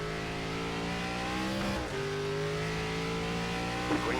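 A NASCAR stock car in the iRacing game cornering at Portland, its engine a loud, continuous drone whose pitch dips and climbs through the turn, heard from inside the car.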